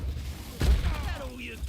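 A Confringo blasting spell fires in Hogwarts Legacy, a single sharp burst near the middle with a low thump and brief crackling tail over ambient game noise.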